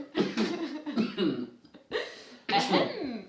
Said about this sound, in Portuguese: engasguei-me com saliva